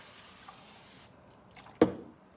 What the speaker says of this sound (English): I'm gonna spray it again with water.